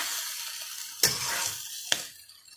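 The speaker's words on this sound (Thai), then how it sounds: "เราจะผัด3รส หวานเค็มนะคะ" Pork sausage and cabbage stir-fry in a hot pan, giving a steady close sizzle with two sharp scrape-clacks of a utensil against the pan as the food is tossed.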